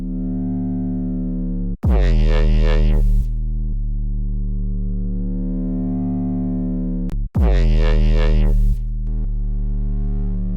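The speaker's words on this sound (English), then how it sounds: "Now we use some distortion." A buzzing drum and bass synth tone is hit twice by loud bursts of gritty, crunchy distortion, each lasting over a second before the cleaner tone returns.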